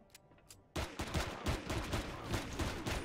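Bursts of gunfire from turrets and a player's weapon in the video game Empyrion Galactic Survival, starting abruptly and continuing as repeated loud volleys and shots.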